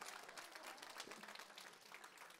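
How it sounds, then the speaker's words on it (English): A crowd claps together in a steady burst of applause, dense and fairly quiet, lasting a couple of seconds. "Round of applause to Ben."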